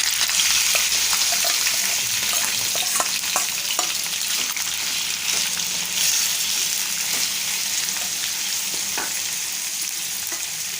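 Masala-coated chicken livers fry in hot oil with curry leaves and slit green chillies, giving a steady, dense sizzle with small crackles and pops throughout, close and fairly loud.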